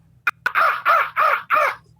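A person imitates a crow, giving four loud, harsh caws in a steady rhythm after two quick clicks.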